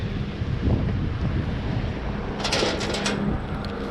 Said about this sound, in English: There's a bit of a storm coming in.